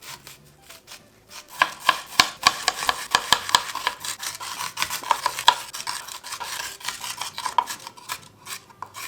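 A dull knife chops an onion on a cutting board, with a run of close, sharp, fairly regular taps mixed with scraping and rubbing; no one speaks.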